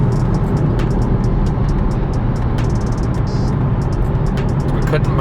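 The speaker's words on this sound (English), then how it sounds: "For a global pandemic, there's definitely a lot of cars on the road." Steady road noise of cars driving past on a busy road, a continuous loud rumble with hiss from nearby traffic throughout, with people talking over it.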